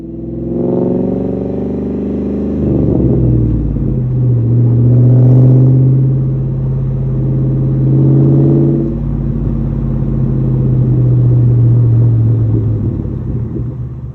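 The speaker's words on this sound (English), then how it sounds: "It's that classic V8 muscle car sound." A Ford Mustang V8 with a Borla Stinger exhaust drives past with a deep, loud rumble, revving up and easing off in several swells over a steady throaty drone.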